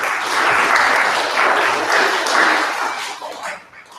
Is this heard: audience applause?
yes